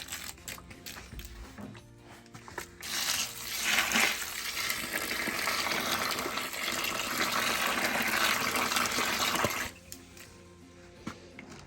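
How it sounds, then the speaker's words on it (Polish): Warm water gushes steadily into a container for several seconds, close and fairly loud, then stops abruptly. "I teraz ciepła woda"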